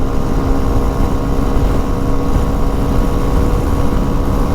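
A Suzuki V-Strom SX 250 motorcycle cruises in sixth gear at high speed, with a steady engine drone and rushing wind that stay loud and unbroken throughout, and no talking.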